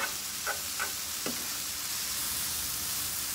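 Tofu scramble sizzling in a pan as it is stirred, a soft continuous frying hiss with a few light scraping taps of the spoon early on, and no voices.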